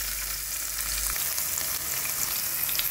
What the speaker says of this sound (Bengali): এইগুলো ততক্ষণ কন্টিনিউয়াসলি আপনারা নাড়িয়ে যাবেন ততক্ষণে না পেঁয়াজটা ভালোভাবে ব্রাউন হয়ে আসছে